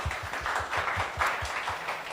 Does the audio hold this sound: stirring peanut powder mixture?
no